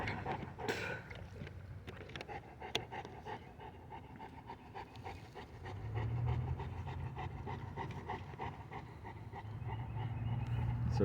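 A dog named Cujo pants rapidly and steadily nearby, quick breathy huffs running throughout and growing louder toward the end, with a faint whimper near the start.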